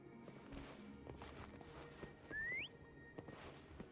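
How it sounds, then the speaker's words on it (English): A rising whistle in Wuthering Waves calls the companion Foam, one short upward-sliding note near the middle, loud over steady game ambience and footstep-like shuffling. "Try whistling."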